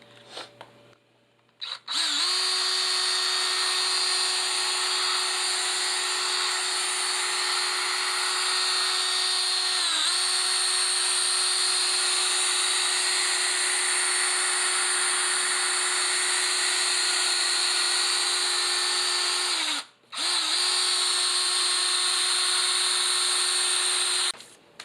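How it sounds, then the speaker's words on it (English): A power drill on its low setting whirs steadily at a constant pitch for a long stretch while polishing a headlight lens, briefly stopping and restarting near the end, loud and close. "So I'm going on the low setting with my drill."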